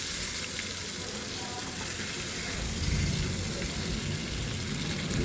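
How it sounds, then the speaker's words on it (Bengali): Pointed gourd (potol) sizzling in hot mustard oil in a pan, a steady soft crackling hiss that swells a little midway, with no talking. "তারপরে একে একে পটলগুলোকে তেলের মধ্যে ছেড়ে দিতে হবে।"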